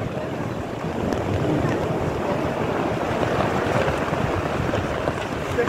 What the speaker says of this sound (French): C'est incroyable quand ça souffle.